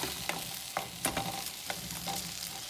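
Jalapeño and serrano chiles and green tomatillos roast in a hot pan with a steady low sizzle and a few soft clicks as they are turned, with no voices.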